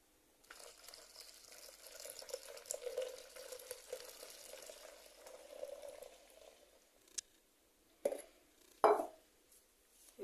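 Soft scraping and swishing of a spoon stirring a homemade handwash mixture in a container, faint and continuous, with a couple of sharper knocks near the end.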